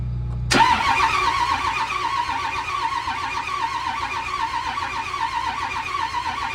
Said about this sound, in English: I'm not going to be able to watch it while I'm cranking the engine over.